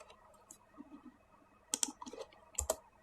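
Typing on a computer keyboard while writing Java code, with soft scattered key clicks that turn into a few quick, louder clusters of keystrokes near the end, heard alone.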